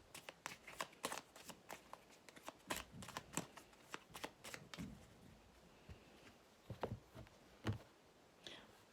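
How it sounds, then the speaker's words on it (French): Tarot cards being shuffled by hand for a nine-card spread, with repeated quick riffling and slapping bursts at close range, fairly soft, with short pauses between shuffles and no talking. "je vais tirer mes 9 cartes et ensuite j'en ferai la lecture"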